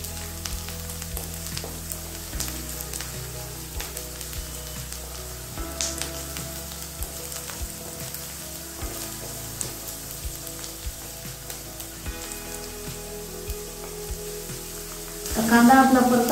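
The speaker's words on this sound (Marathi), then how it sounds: "अधूनमधून कांदा आपल्याला हलवत राहायचा आहे." Chopped onion sizzles steadily in a pan, a constant close frying hiss marked by occasional scrapes from stirring, and the sizzle swells louder near the end.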